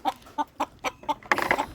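Fayoumi hens on a hen farm give a series of short, close clucks in an uneven rhythm, ending in a quicker burst of overlapping calls.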